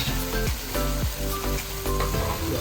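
Pav bhaji tempering of pav bhaji masala and amchur powder sizzles steadily in a hot pan, a close, continuous crackling fry with no voices over it.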